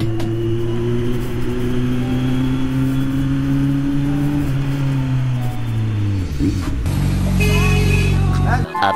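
A Kawasaki Z900 motorcycle fitted with an SC Project CR-T exhaust drones loudly at a steady pitch, then the engine note dips and rises again as it revs hard, close and continuous throughout.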